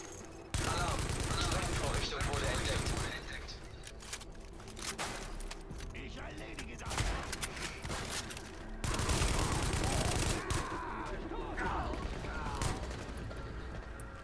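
Sustained rapid machine gun bursts in Tom Clancy's The Division, dense cracks and booms, continuous and loud, pausing briefly before resuming, in a game battle soundscape.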